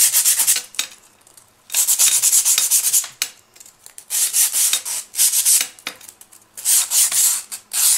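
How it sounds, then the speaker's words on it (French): A 100-180 grit nail file rasps across gel nails in repeated bursts of brisk, scratchy strokes, loud and close, with short quiet gaps between the runs of filing. "Je fais la finition à la lime 100-180"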